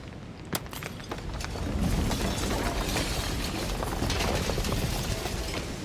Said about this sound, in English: And then the shattering.